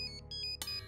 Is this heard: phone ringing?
yes